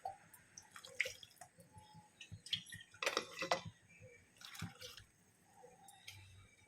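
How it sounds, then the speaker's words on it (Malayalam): Water is poured into a pot in short, quiet splashing bursts with gentle trickles between them, close and fairly soft. "ലേശം വെള്ളം കൂടി ഒഴിച്ചു കൊടുക്കാം"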